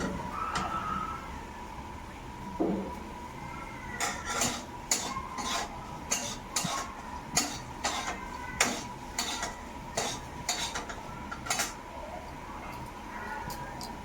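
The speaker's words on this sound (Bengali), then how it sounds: "গ্যাসের ফ্লেমটা জোরে দিয়ে দিয়েছি ঠিক আছে ও তাড়াতাড়ি করে নাড়িয়ে নামিয়ে নেবো" Repeated metallic scraping and clinking of a spatula stirring fried potatoes in a pan over a high gas flame, in an irregular rhythm over a low background hum.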